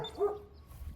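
A friendly dog at a residential property with a concrete-roofed structure in Riverside, California, gives a single short bark, faint and slightly distant, over quiet outdoor background.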